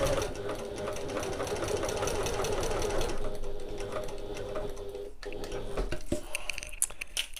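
A sewing machine stitches fabric and fleece in a steady, loud mechanical whir for several seconds, then slows and stops with a few short clicks and bursts near the end.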